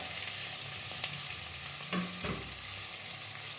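Quail pieces frying in hot coconut oil give a steady close sizzle throughout, with a brief stirring clatter midway and no talking.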